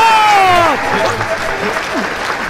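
Crowd applause and cheering at a political rally in a Bhojpuri film scene, a dense wash of clapping that fades slightly but continues throughout, with a voice briefly audible over it.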